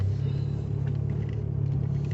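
Abarth 500 hatchback with a manual gearbox on the road, a loud steady low engine drone and rumble heard from inside the cabin while driving, with no talk.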